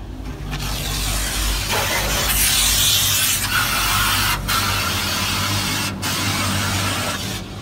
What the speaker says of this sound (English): We're going with the high pressure rinse.